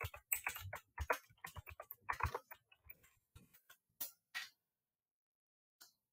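Fingers type rapidly on a computer keyboard, entering a search in an online design tool, with quick close clicks in an irregular burst that thins out into a few last taps and silence.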